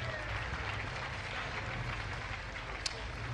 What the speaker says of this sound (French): Le public applaudit les Ford